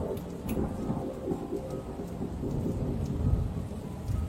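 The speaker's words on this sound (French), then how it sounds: "Un soir, un terrible orage éclata." A violent night thunderstorm rumbles with low rolling thunder over a steady roar of heavy rain, swelling louder toward the end with no voices present.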